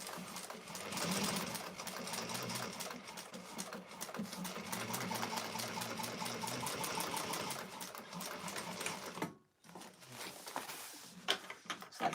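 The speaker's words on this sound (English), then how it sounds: "we're going to top stitch." A sewing machine top stitches a bowler bag, running in a steady fast mechanical whir with a rapid needle patter, briefly stopping near the end before resuming in shorter runs.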